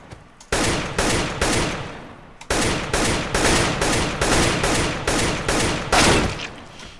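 Rapid bursts of video game gunfire during close-range aim training, loud repeated shots in quick rhythmic volleys with a brief pause, heard alone without talk.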